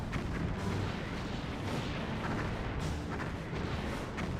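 Sustained roaring, rumbling blasts from a Cardassian outpost being destroyed in the Star Trek Bridge Commander space combat game, loud and continuous, with repeated bursts swelling through the din and no voices.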